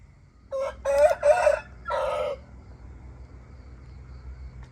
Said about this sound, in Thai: ไก่ขันพอดีครับ